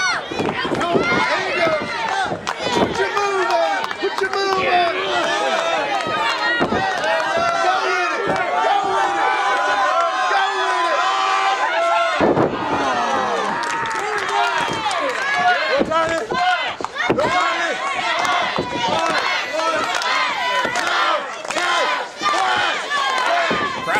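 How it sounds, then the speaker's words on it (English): At an independent wrestling show, a loud arena crowd roars and chants steadily, calling for a splash, with a commentator's voice running over the noise. "Crowd calling for a splash"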